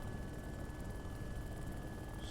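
An aircraft flies in a video game with a continuous droning engine hum and a faint high whine, steady and unbroken throughout.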